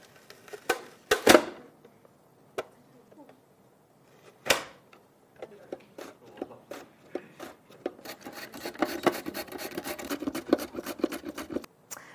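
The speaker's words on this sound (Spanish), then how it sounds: "Aquí acabo de colocar una cebolla y si la queremos en rebanadas un poco más grandes, simplemente vamos a fijarla" An onion is sliced on a multifunction vegetable cutter, giving sharp isolated clacks and scrapes early on, then a denser stretch of rapid rasping cuts and crunches, close up with no talking.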